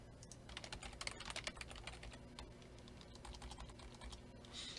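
Fast typing on a computer keyboard, a quick irregular run of sharp key clicks in bursts with brief pauses, fairly faint and close, with no speech.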